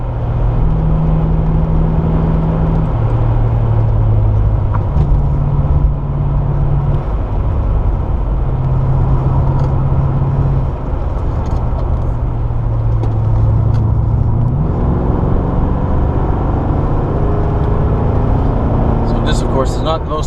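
Lincoln Mark VII car driving up hills on a road with a 55 mph limit, heard as a steady low engine and road drone from inside the cabin while a person talks throughout.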